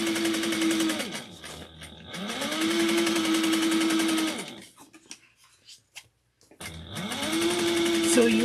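A sewing machine top stitching a seam runs in loud bursts of steady whirring, stopping and restarting three times with brief quiet gaps between runs, while a person talks during the pauses.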